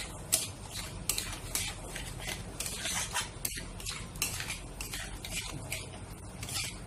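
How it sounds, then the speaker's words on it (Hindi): Egg stirred in a pan with a metal utensil, bursts of bright scraping and clinking strokes over a low steady hum, close and fairly quiet. "अब इसमें डालेंगे अंडा, और इसको साथ साथ चलाते रहेंगे"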